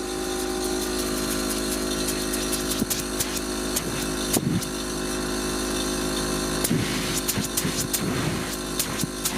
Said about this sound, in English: Compressor's running.